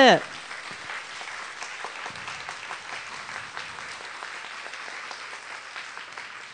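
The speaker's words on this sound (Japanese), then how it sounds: "スピーカーの皆さんにもう一度盛大な拍手をお願いいたします" Sustained audience applause at a panel event on gender parity in Japan, steady dense clapping from a crowd for the speakers, moderately loud and lasting throughout without talk.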